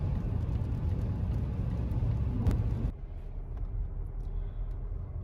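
A car rolls along near the German border, its engine and road rumble steady and fairly loud, then dropping to a softer, quieter hum partway through.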